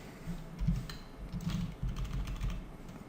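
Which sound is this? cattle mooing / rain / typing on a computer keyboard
typing on a computer keyboard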